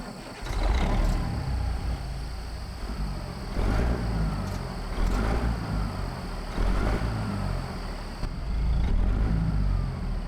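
A Cat 3406B diesel truck engine in American Truck Simulator runs steadily with a deep low rumble, swelling in loudness several times as it revs and pulls through gears, heard alone without talk.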